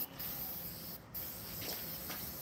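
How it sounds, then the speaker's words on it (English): An aerosol rattle can sprays a primer base coat outdoors, a steady close hiss running almost throughout with two brief dips as the nozzle is released. "I do not normally paint like this with spray bomb at all."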